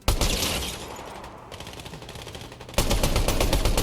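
Assault rifle fire in a video game, dense automatic bursts that rattle on continuously, dipping briefly mid-way before a louder, sharper burst resumes.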